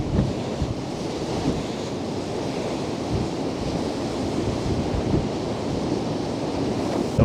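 Stormy sea pounding the Blackpool sea wall in 70 mph gusts, a loud continuous roar of surf with repeated heavy crashes and strong wind buffeting the microphone throughout, no voices.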